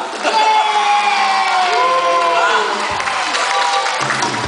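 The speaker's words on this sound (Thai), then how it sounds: "ขอเสียงปรบมือด้วยครับ" A concert crowd cheers and claps, loud sustained shouting and applause with whoops, while an amplified voice carries on over the noise.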